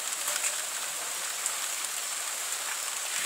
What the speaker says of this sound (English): About a rainy day.